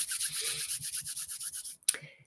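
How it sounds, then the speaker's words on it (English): Palms rubbing briskly together in steady back-and-forth strokes, a soft rhythmic hiss close up, ending with a brief clap-like contact. "Rub your hands together"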